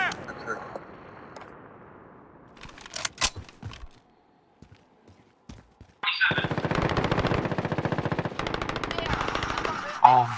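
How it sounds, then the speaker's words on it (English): Rapid machine-gun fire in Call of Duty: Modern Warfare, with sparse shots and clatter early on, then a loud sustained automatic burst from about six seconds onward; a voice speaks briefly. "Taking fire!"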